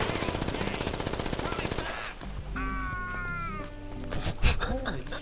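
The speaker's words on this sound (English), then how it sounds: "Hey, gunshots." Gunfire in the GTA NoPixel role-play video game, a dense rapid burst of shots at the start followed by a quieter stretch with scattered sounds and a sharp loud crack near the end.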